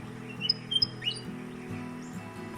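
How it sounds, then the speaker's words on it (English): Birds chirp and tweet along a coastal beach trail under eucalypts, a few short, thin calls near the start, faint over a low background hum. "bird song,"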